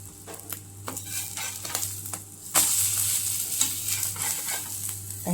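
Khandoli frying in hot oil, with a steady close sizzle punctuated by repeated stirring scrapes and clinks, louder crackling in the second half, no talk.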